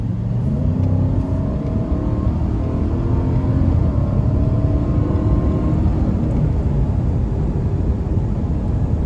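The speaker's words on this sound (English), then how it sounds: "So we're gonna give it some throttle here." A 2021 Nissan Titan SV V8 pickup truck accelerates under throttle, its engine droning loud and steady inside the cabin with a low road rumble.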